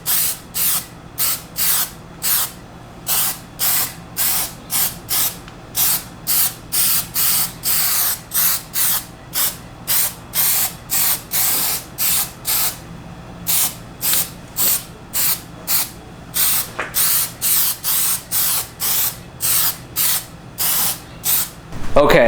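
Rapid, evenly spaced bursts of aerosol Plasti Dip hiss as a heavy coat goes onto Ford F150 emblems, dozens of short sprays in steady rhythm, close and loud throughout.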